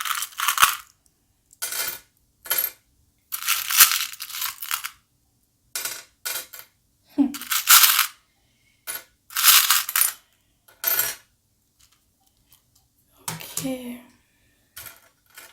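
Metal tarot-reading charms shaken and handled, giving bursts of bright jingling and clinking like coins and cutlery, loud and close, with pauses between bursts and a brief spoken word.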